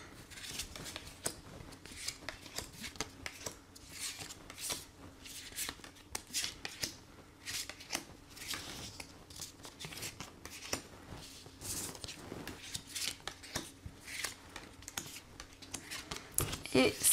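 Oracle cards shuffled by hand for a tarot-style reading, a steady run of soft, papery riffling and flicking that keeps going close up, fairly quiet, with no voice over it.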